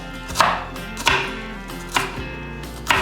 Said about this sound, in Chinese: 香菜切碎。